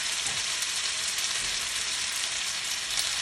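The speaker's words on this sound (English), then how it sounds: "Once you put your gnocchi in, we're gonna let it sear." Gnocchi searing in nearly browned butter in a non-stick pan give off a steady, loud, continuous sizzle with a fine crackle throughout and no voices.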